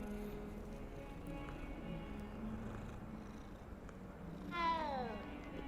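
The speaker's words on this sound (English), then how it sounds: "No, but you can pet the cat." A black cat being petted in Hogwarts Legacy purrs quietly and steadily, then gives a short rising meow near the end, faint and close over low background hum.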